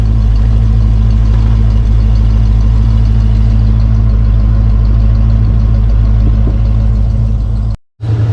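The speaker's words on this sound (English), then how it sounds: "Let it idle and run until it gets hot." A 1991 Ford Bronco with a suspected head gasket fault idling, a loud steady low engine drone close by that cuts out abruptly near the end before returning.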